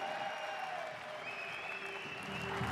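Crowd applauding Jack Jordan's win at the STIHL TIMBERSPORTS World Trophy in Milan, a sustained dense clapping from a large audience with tonal music or announcer sound mixed in.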